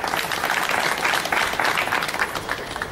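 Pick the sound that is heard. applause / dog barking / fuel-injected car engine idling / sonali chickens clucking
applause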